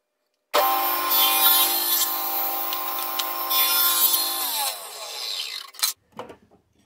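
A table saw with splitter and blade guard cuts small wood pieces: the motor whines up sharply, holds a loud steady tone through the cut, then spins down, followed by a few wooden clunks.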